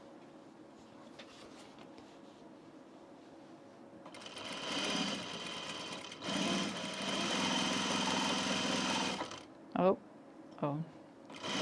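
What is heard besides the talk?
sewing machine stitching princess seam of blazer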